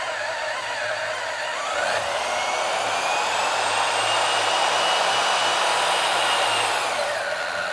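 A portable bandsaw on a stand runs steadily at low variable speed, giving a continuous close motor whine with a high blade hiss and a slight pitch drift, and no voices.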